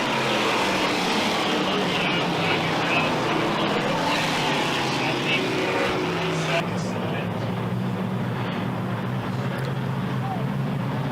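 Race cars circling Merrittville Speedway under caution, engines droning and rumbling at moderate distance in a steady wash of noise, with a track announcer talking over it.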